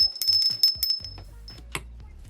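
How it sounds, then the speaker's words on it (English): A short electronic bell sound effect for a subscribe reminder rings out in a quick series of bright chimes, followed by a softer trailing ding, with no talk over it. "It's a bell!"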